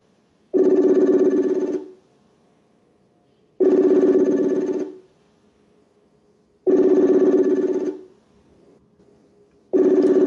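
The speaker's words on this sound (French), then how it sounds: "En ce moment, c'est lui que nous tentons d'appeler. Il faut qu'il décroche" Telephone ringback tone while calling someone, heard as loud bursts of about a second and a half each, repeating roughly every three seconds with near silence between them, and no voices.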